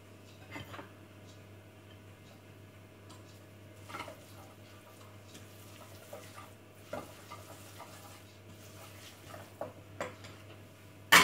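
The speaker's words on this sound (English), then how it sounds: "Make sure you give your sauce, your white sauce, a good stir because it's sitting there warm" Faint scraping of a spoon stirring warm white sauce in a pan while a vegetable bake is prepared, with soft intermittent clinks over a steady low kitchen hum and no talking.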